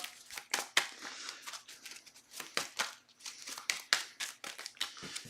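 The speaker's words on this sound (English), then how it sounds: "we're going to shuffle back up" A deck of game cards shuffled at a table, with repeated riffling bursts and papery flicks in an uneven rhythm, close up and moderately loud, no voices.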